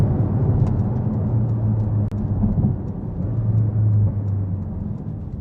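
Engine of a Porsche Cayman GTS on the road, either the 4.0-litre flat-six or the 2.5 turbo 718, a loud, steady cabin drone with a low rumble that holds throughout, no voices.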